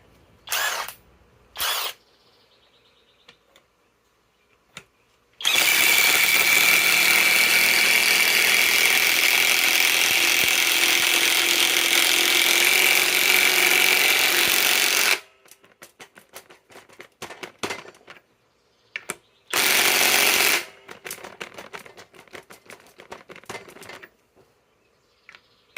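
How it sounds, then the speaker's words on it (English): A Kobalt mid-torque impact wrench drives an 8-inch lag bolt, giving one long loud hammering burst of about ten seconds, then a shorter burst later, with quiet handling clicks and pauses in between. "let's install this 8-inch power lag. Let's install it with a KOBALT"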